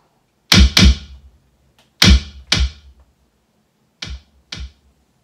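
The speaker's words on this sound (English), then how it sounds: "go to the sofa kick drum" A kick drum sample made by striking a household sofa: six dull, punchy thumps arranged in three close pairs, each a sharp attack with a short decay, loud and dry with no other sound.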